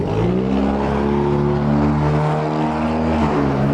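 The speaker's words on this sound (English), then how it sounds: "That's a car with missing a muffler." A newer Audi with its muffler knocked off drives along a Toronto street at Dundas and Ossington, its loud, raspy engine drone steady and close throughout with no talk.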